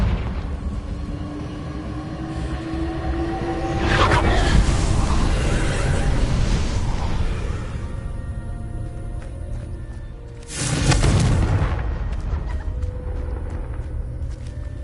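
A Confringo fire-blast spell in Hogwarts Legacy, two heavy booming bursts several seconds apart over a loud, dense game soundscape.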